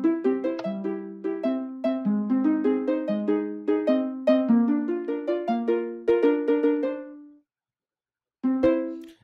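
A video game tune plays on Minecraft note blocks as bright plucked notes in a quick rising melody, ending on a held note, a short pause and two final notes.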